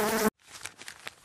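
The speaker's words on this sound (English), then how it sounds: "Fly." A housefly buzzing in short, faint, wavering bursts for about a second, preceded by a brief clear tone.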